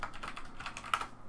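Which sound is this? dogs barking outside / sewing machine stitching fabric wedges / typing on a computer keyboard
typing on a computer keyboard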